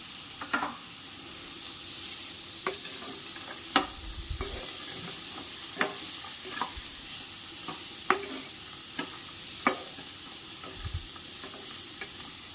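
Onion, peas and turmeric masala fry in a pan with a steady low sizzle, broken by scattered clinks and scrapes of a stirring spoon against the metal, close and fairly quiet, with no talking.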